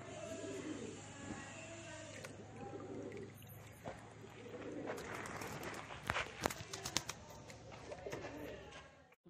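Costly homer pigeons coo softly and repeatedly while being handled during a Butox bath, the low burbling calls running under faint rustling and movement.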